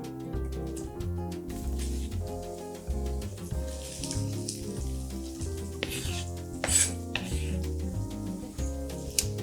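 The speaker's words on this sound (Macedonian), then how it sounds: "Го префрлам во тава да се пропржи и да се застакли." Onion sautéing and being stirred in a pan while preparing traditional Macedonian green beans, a steady sizzle with stirring scrapes, heard under strong tonal music throughout.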